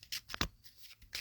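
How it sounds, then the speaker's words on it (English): Tarot cards are shuffled by hand in a few quick riffling bursts, soft and close, with short pauses between them and no voices. "I'm shuffling the cards real good"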